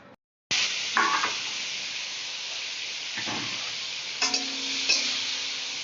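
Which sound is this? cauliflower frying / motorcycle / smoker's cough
cauliflower frying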